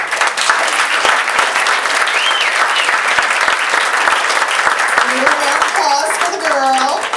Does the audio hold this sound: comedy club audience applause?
yes